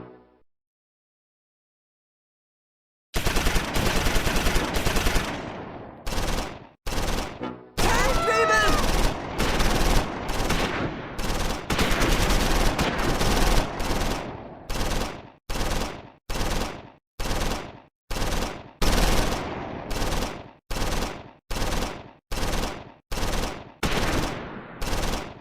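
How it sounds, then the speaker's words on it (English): Machine gun suppressing fire in Close Combat 4, a Battle of the Bulge wargame, with loud sustained bursts that break into a steady series of short, evenly spaced volleys after a silent start. "Robinson lays down suppressing fire at the crossroads."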